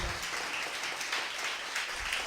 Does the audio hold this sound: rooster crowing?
no